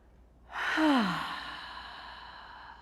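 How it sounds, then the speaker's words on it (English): A long, slow breath exhaled aloud during a guided yoga breathing exercise, a soft sigh-like release that swells and then gradually fades, heard alone and close. "I want you to start by letting go of a nice long exhale."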